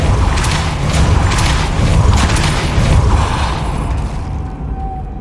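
Depulso spell being cast in the video game Hogwarts Legacy, a loud booming blast with a rumbling low body that sustains for several seconds before tailing off, with no talking.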